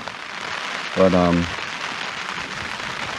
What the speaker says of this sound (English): I'm getting hammered by wind, which is blowing the rain sideways